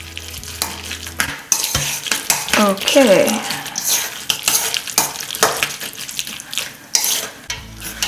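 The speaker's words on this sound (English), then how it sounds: "we are gonna mix it all together. So it forms something you can spread on a sandwich" A spoon stirs egg salad in a bowl, a wet, squelching mix of mashed egg and dressing, with scraping and clinking against the bowl in close, irregular strokes; a voice says a brief word.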